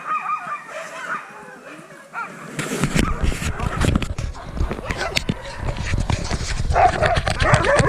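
Sled dogs in a snowy Lapland forest bark, yelp and whimper excitedly, the noise swelling into a dense chorus as the pack gets louder, with people talking faintly amid the din.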